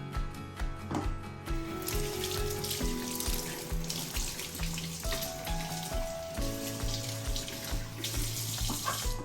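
Filtered tap water pours steadily into a sink in a house in Canada, a continuous close splashing hiss with soft tonal sounds in the background.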